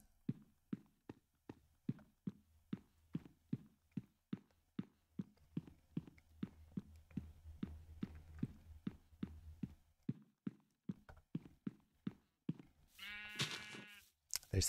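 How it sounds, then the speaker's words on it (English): Sheep in the Minecraft video game bleat repeatedly in a regular rhythm, close and clear over a quiet background, with a louder burst of sound near the end. "There's some sheep here."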